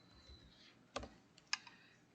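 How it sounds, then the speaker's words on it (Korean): A few faint, sharp keystrokes on a laptop keyboard in a quiet room, two distinct taps standing out over low background hiss. "노트북에서 작업을 하니까 약간 키보드 쓸 때 좀 불편하긴 하네요"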